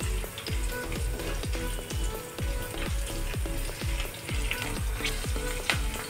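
Green chillies hit hot oil in a pan while cooking Shahi Pulao, a loud, continuous frying sizzle up close with repeated rhythmic stirring scrapes and pops throughout.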